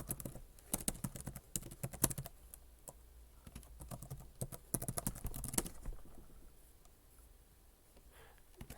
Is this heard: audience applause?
no